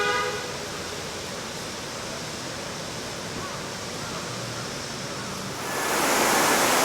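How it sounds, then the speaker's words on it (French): A wall of water cascades in a Japanese garden in Kanazawa, a steady, dense rushing hiss close by that swells louder toward the end. "Un mur d'eau."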